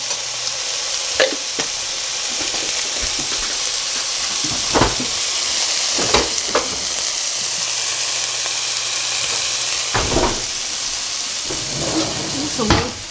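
Minced garlic sizzles in a pan for a vegan vegetable soup, a steady close hiss broken by occasional scraping stir strokes, with no talk.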